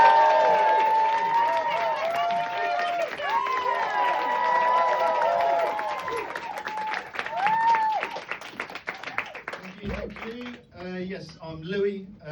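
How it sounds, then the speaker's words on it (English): Comedy showcase audience applauding and cheering loudly, a thick crowd roar with whoops that dies away into a single voice talking. "1, 2, 3, start the clapping"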